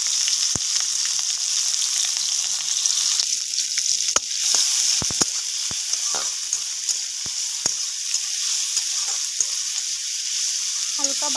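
Onion sizzles steadily in hot refined oil in a pan, a dense crackling hiss throughout with a few sharp clicks of a utensil and no talk.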